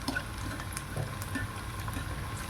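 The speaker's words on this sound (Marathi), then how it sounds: "तुम्ही पाहत आहे आपले मंचुरियन छान प्रकारे फ्राय होत आहे." Veg Manchurian balls frying in hot oil, with a steady close crackling sizzle and scattered small pops throughout, no talk.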